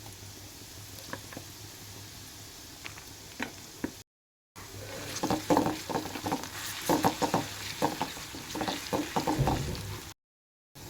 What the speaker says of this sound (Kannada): ಇಲ್ಲೇ ಉಳ್ಳಾಗಡ್ಡೆ ಚಲೋತ್ನಾಗಿ ಫ್ರೈ ಆದ್ವಿ ರೀ.